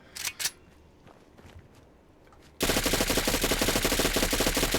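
An Interplay 10mm SMG modeled on the HK MP9 fires in Fallout 4: a few scattered quieter shots come first, then a loud, sustained automatic burst begins abruptly and runs to the end.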